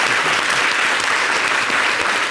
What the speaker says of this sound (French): Ça mérite quelques applaudissements quand même.